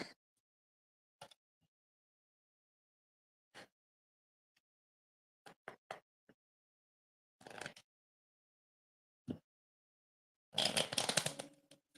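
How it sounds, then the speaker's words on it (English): A deck of tarot cards is shuffled in short, soft bursts of riffling and tapping separated by silences, ending in a longer, denser shuffle; quiet and close, with no talking. "Now I'm finna shuffle the cards for fairy edits"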